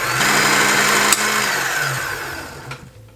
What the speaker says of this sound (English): can just press on the pedal to start winding the thread onto the bobbin